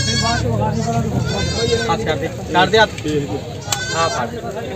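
Goats bleat repeatedly, several loud cries close by, mixed with people talking and haggling over them at a goat market.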